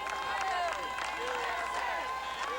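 A crowd on a New York street cheering and clapping for firefighters walking back to their firehouse in 2001, a faint, distant mix of applause and shouts with overlapping voices.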